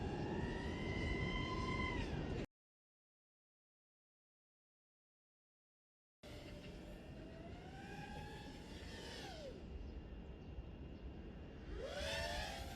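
Motors whine loudly and climb in pitch as they rev up, cut to silence for several seconds, then roar back, sweeping up and down again.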